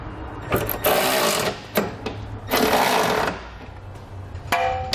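Socket wrench snugging up the 19mm bolts of a Curt trailer hitch receiver on a 2017 Ford, heard as a few bursts of dense, rapid clicking ratchet noise, close and fairly loud, separated by brief pauses.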